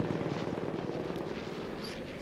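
A biplane engine from Battlefield 1 drones steadily and close, a loud, rough propeller roar holding an even level without a break.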